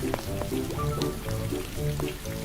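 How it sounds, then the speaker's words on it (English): Cartoon rain falls in a soft, steady patter of droplets with some sizzling texture, even and fairly close over a low musical background, with no talking. "it begins to rain."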